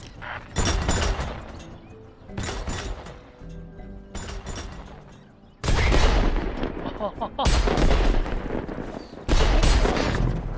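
Several loud, heavy weapon blasts and explosions go off in the artillery game Worms WMD, coming in distinct bursts with rumbling decay and debris, with some faint commentary voice underneath.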